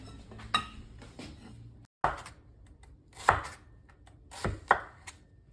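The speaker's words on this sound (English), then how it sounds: "Now I'm going to prepare the onion portion of the entertainment." A knife chops an onion on a cutting board with a handful of sharp, loud strikes a second or so apart, each cutting through a quiet kitchen backdrop.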